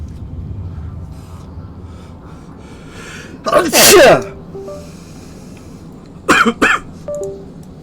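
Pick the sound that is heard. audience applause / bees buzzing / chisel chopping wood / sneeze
sneeze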